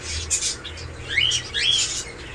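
Several quick, bright chirps from caged birds, including cockatiels, sound close by at a bird market in short bursts, some sweeping upward, over a low background hum.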